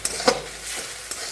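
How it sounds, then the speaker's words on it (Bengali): Greens, pea shoots, fry in a pan as a spoon stirs them and turmeric goes in, giving a soft sizzle with a couple of quick scraping clicks up close. "এটা ভাজা ভাজা হয়ে গেছে, তো এখন একটুখানি আমি এটাতে হলুদটা দিয়ে দিই"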